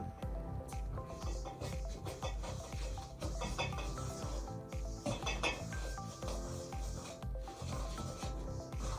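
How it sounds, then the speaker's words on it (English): Eggs are mixed into creamed butter and sugar in a bowl, a faint, continuous rubbing and scraping with soft clinks of the utensil against the bowl and no talking. "we're gonna mix the eggs in as our first wet ingredient"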